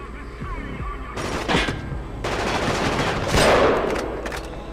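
Bursts of automatic gunfire from the Killzone 2 video game, repeated volleys with booming impacts against a steady background hum, fairly loud and close throughout.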